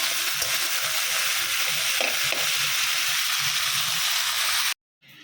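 Crab frying in a pan with turmeric and chili, a loud continuous sizzle and hiss close by with faint stirring scrapes, cutting off abruptly near the end.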